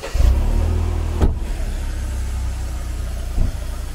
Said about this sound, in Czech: Nastartuji a stáhni střechu.